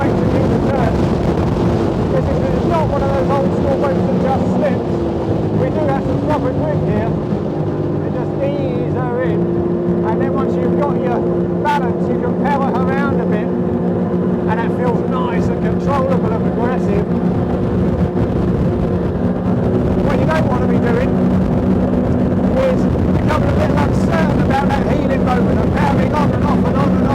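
A Williams jet tender motorboat runs on open water, its engine a steady droning hum that shifts pitch as the power eases off for a turn, with gusty wind noise throughout.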